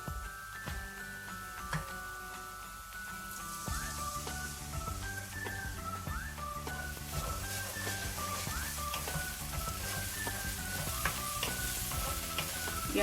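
Tomato paste goes into a frying pan of okra and lentils, giving a soft steady sizzle with scattered clinks of a utensil stirring, faint and close.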